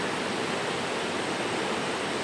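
Heavy rain pours down outdoors in a steady, loud, unbroken hiss that fills the whole stretch without pause.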